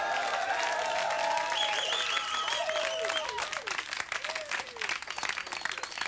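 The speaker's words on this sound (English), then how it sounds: "Give them a nice round of applause." Studio audience applauding the Gnomes on a 1995 radio talk show, a steady dense wash of clapping with whistling and cheering mixed in, while a sustained musical tone plays underneath.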